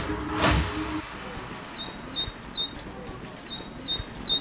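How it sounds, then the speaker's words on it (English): Spring birdsong outdoors in Freetown: a bird repeats short, bright descending chirps in regular clusters, fairly clear against a quiet background with a soft thump near the start. "You can hear the birds."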